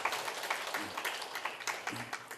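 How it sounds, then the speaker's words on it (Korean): An audience at a panel discussion forum claps in a short, light burst of applause, a scattered patter of hands heard from a distance, fairly faint. "박수 한번 부탁드립니다"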